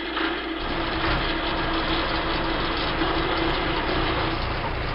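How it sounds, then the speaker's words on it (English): A tractor drives along with a steady, loud, continuous engine rumble and mechanical rattle that holds unbroken throughout, with no voices. "This is the sound of a tractor which is being driven"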